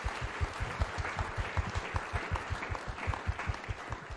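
A church congregation applauding during a testimony service, steady dense clapping with rhythmic low thumps underneath, as if some in the crowd clap in time to music, continuous and fairly loud throughout.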